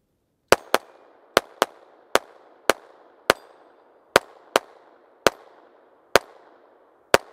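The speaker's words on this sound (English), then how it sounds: "if you're curious of what the Taurus Tx22 compact sounds like and how it shoots with just the open sights, there you go." A Taurus TX22 Compact .22LR pistol fires about a dozen sharp shots at an irregular pace outdoors, each crack decaying quickly in open air, with no talking.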